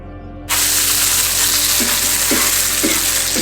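Food fries in a pan in a home kitchen, a steady loud sizzle that jumps in at once and keeps going, with soft stirring clatters now and then and no talk over it.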